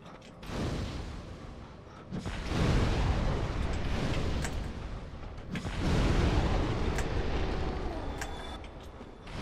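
Fire blasts from hounds in Dark Souls come as a couple of heavy roaring whooshes, each swelling to a loud, rumbling peak and then fading, with a quieter gap between them.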